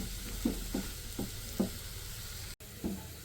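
Gram flour mixture roasts in a pan on low heat, giving a soft steady sizzle broken by about six evenly spaced scraping stir strokes, close and fairly quiet.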